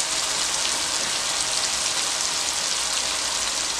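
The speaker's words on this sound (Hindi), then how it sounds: "अब इसमें साग डालूंगी, यानी सौंचल साग" Sonchal saag greens hitting a hot pan give a steady, dense sizzle that holds evenly throughout, close and fairly loud with no talk.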